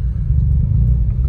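A small city car (Citroen C1, Peugeot 107 or Toyota Aygo type) climbs uphill on slushy snow, its engine a steady low rumble with muffled road and tyre noise, close and continuous, no voices.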